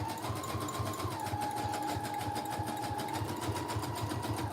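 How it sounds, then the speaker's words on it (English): A sewing machine stitches a small pocket onto a handmade wallpaper journal, giving a steady, rapid mechanical whir with a rhythmic needle chatter, close and continuous throughout. "I'm just gonna sew on the little pocket here"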